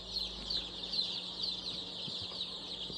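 Many young chicks, from a day to two weeks old, cluck and peep continuously in a basement brooder holding about a thousand birds, a steady dense chorus throughout.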